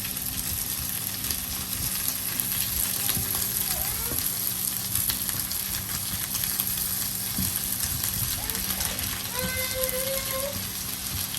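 Shrimp frying in a pan for pad thai, a steady close sizzle throughout with occasional scrapes and clinks of a utensil turning the food.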